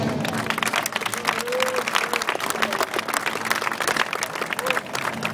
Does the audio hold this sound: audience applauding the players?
yes